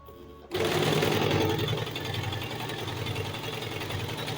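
A sewing machine stitches turban fabric, its motor starting abruptly after a short moment of quiet and then running in a steady, even whir close up.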